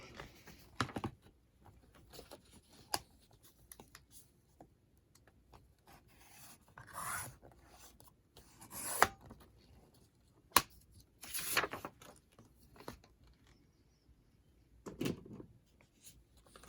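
Scissors snip through material during the restoration of an old Bible: a few faint, sharp cuts and rustles, close by and scattered across a quiet room.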